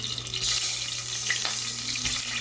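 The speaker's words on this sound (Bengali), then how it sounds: "আমরা যেভাবে ডিম রান্না করার জন্য ডিম ভেজে নেই, সেইভাবে একটু ভেজে নেব।" An egg seasoned with salt and turmeric fries in a pan for a coconut egg dish, giving a steady, close sizzling hiss that runs unbroken with no talking.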